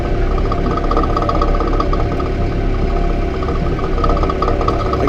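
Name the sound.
Massey Ferguson 4710 tractor engine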